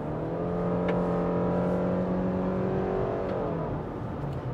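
A 2023 Subaru Outback's 2.5-liter naturally aspirated, non-turbo four-cylinder engine hums steadily, loud and close, with a smooth droning tone that eases slightly toward the end.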